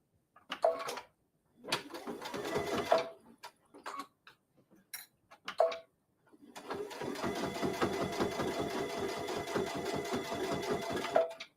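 An embroidery sewing machine stitching, starting and stopping in short bursts before settling into a steady, rapid mechanical rattle, with no talk over it.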